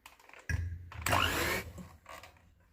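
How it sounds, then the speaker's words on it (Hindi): An electric beater whips cream with powdered sugar in a bowl, giving short bursts of whirring motor noise with the loudest, steadiest run in the middle, and no talking. "इसमें हम क्रीम डालेंगे और बीटर की मदद से इसको व्हिप करेंगे 1 मिनट के लिए"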